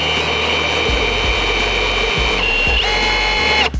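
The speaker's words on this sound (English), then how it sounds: "we switch the drill to the backwards position" A power drill spins in reverse through a hole during an Audi R8 V10 cage install, a steady loud whirring motor drone with brief pitch shifts near the end before it stops.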